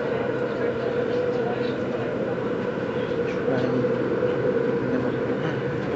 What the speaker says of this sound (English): I'm filming this train. It's going 140 miles per hour.